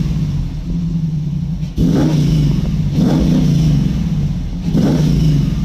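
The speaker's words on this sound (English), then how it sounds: "I don't know if you guys can hear the blower whine on top of the roar." A supercharged Jeep SRT8 with an aftermarket exhaust revs up close in three or four quick blips over a deep rumbling idle, each rise in pitch falling back to the steady roar.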